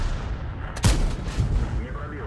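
A single heavy tank cannon blast in a tank battle video game, one sharp loud boom that rolls off into a rumbling tail, followed by faint lower rumbles, with a voice talking underneath.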